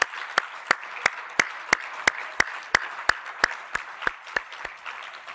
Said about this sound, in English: could we just give a round of applause to them?